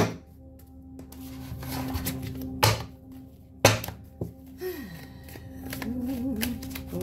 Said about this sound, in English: These cards are so thick. Like, oh my goodness. I'm trying to shuffle them